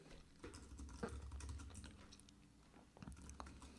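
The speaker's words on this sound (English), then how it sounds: "So what we do is we type into Google" Someone types a search on a computer keyboard, a quiet run of rapid key clicks with a few brief pauses and nothing else going on.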